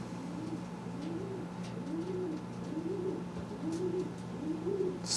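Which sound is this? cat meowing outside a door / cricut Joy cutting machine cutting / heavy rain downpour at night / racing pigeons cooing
racing pigeons cooing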